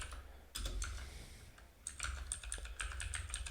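Quick typing on a computer keyboard, bursts of close, crisp key clicks with a short pause before a faster run, no voices.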